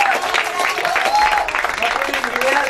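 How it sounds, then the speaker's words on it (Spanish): Applause from an audience at the opening of La Parrilla De Marthita restaurant: dense, steady clapping close by, mixed with cheers and voices throughout. "Y ayúdenos a darle un fuerte aplauso a todo el equipo"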